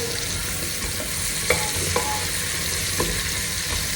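Beef pot roast being stirred in a pan gives a steady sizzle and a few distinct scraping strokes of the spoon, close by and without any talk.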